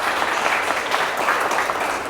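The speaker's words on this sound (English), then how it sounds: "Let's give them a round of applause." A room full of guests at a political fundraiser gives a sustained round of applause, a dense, even patter of many hands clapping at once, fairly loud and continuous with no speech on top.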